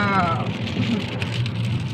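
Heavy rain pours down in Saudi Arabia, a close, continuous splashing wash of water, with a brief voice rising near the start.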